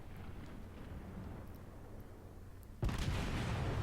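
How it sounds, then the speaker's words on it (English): Kongo battleship main guns firing in the World of Warships naval video game: a low steady rumble of ambience gives way to a single loud, heavy boom near the end that lingers. "Now here we see my first shots."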